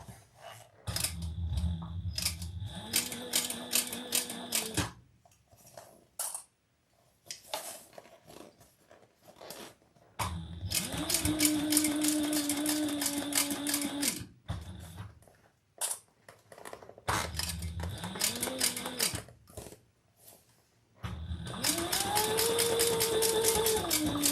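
A sewing machine stitches a rounded seam on a Reno Rounded sewing project. Its motor whines up to speed and runs in four separate bursts, with quiet pauses between them.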